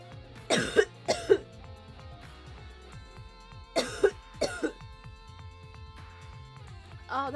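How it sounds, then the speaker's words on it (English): Someone has a coughing fit: three bursts of harsh coughs, each a quick cluster of two or three, close and clear over a soft game music background. "Oh, that was just the most random coughing fit."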